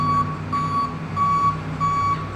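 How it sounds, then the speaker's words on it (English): A truck's reversing alarm beeps as it backs up, sounding four steady, evenly spaced tones, loud and close over a low engine rumble. "I hear something. I hear it backing up."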